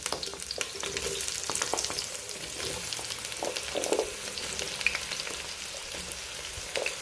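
Aubergine (eggplant) frying in oil in a pan at the start of a bean sauce, a steady close crackling sizzle with occasional pops and stirring, continuous and alone without voices.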